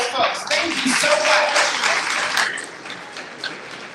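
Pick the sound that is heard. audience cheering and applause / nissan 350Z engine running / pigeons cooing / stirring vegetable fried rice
audience cheering and applause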